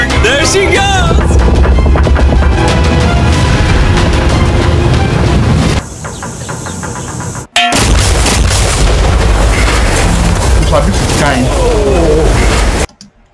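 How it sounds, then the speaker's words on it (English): Massive blast from combined C-bombs blowing up a yacht, a sustained loud roar of booming detonations and rumbling that cuts out briefly midway, then resumes at full force before ending abruptly. "This explosion is going to be massive."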